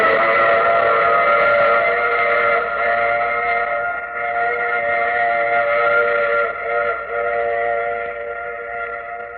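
A steady, sustained train whistle blows loudly and continuously, its harmonic tone dipping slightly at moments, with a rumbling rail noise underneath and no talking.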